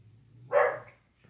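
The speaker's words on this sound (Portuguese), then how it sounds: "Emote de cachorro." A single short dog bark played as an in-game emote, loud and close over a low background hum, then near silence.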